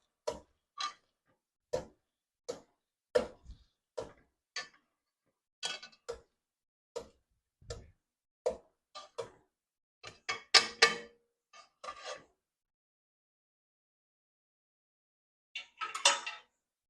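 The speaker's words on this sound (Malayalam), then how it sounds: "ഇത് പെട്ടറ്റയൊക്കെ മാഷ് ചെയ്യുന്നതാണ് ഇതുപയോഗിച്ച് ഇതൊന്ന് മാഷ് ചെയ്ത്" A potato masher works through cooked plantain for a plantain payasam, giving a series of separate soft taps and clinks at an uneven pace, close by, with a pause before a final cluster.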